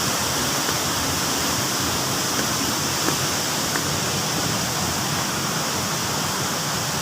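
Steady, loud roar of a twin waterfall at Bangun Rejo in Solok Selatan, West Sumatra, a constant broadband rush of falling water with no break and no voices.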